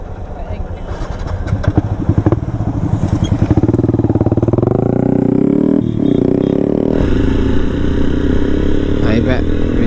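A motorcycle engine with its stock exhaust runs close by, revving with a pulsing, throaty rumble that settles into a steady loud drone, while a voice speaks over it.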